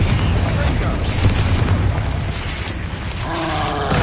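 Loud, dense booming blasts and crackling bursts of spell explosions in the Hogwarts Legacy video game, continuous and heavy throughout, with in-game voices mixed in.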